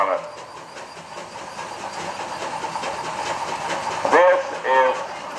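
A vintage Rudeville engine tractor runs in a daily construction expo parade, a steady mechanical rumble under crowd noise and nearby chatter, with a couple of louder bursts near the end.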